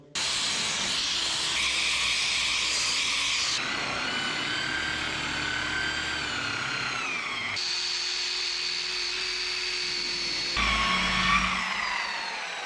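A dual-action polisher buffs compound over rusty paint on a car, a steady loud whirring hiss with a pitch that shifts as the pad is pressed and moved, rising briefly near the end.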